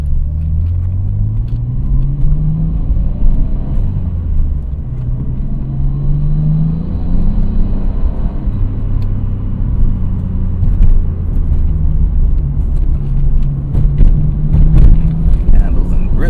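A Nissan Skyline GT-R V-Spec (R33) engine rumbles at low speed over speed bumps, its pitch rising and falling gently as it creeps along, with someone talking over the steady drone.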